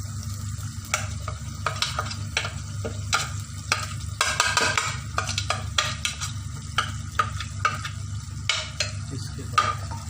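Ground garam masala frying in hot oil with beef for a masala handi, stirred by a utensil in a steady sizzle, with repeated scraping strokes at close range. Nobody speaks.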